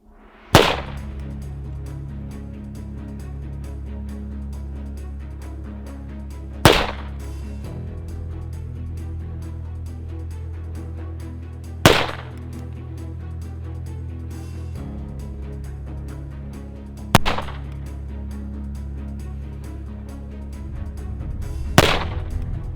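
Pistol shots from a left-handed shooter using a traditional grip in a warm-up drill, five sharp, loud reports spaced about five seconds apart over a steady low background hum.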